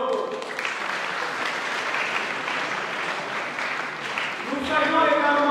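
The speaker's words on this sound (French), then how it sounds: "et nous allons l'applaudir." Applause from a congregation at a Catholic youth Mass in Bandundu, a sustained crowd of clapping hands at an even level, with a musical tone entering near the end.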